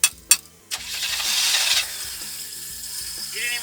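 A 1979 Chevy Nova with a carburetor problem cranks and catches, a few sharp clanks followed by a brief surge and then a rough, uneven idle chugging close by.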